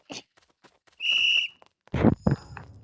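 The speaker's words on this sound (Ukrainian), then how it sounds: "Ага, ага, не свисти мені тут." A short, steady, high whistle rings out for about half a second in the Roblox game Escape the school obby, between scattered clicks and a couple of louder thumps.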